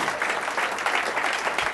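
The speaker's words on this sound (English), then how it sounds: "And all this applause is for you guys." Audience applause following a hypnosis stage show in Boston, a steady, full clapping crowd sustained throughout without speech.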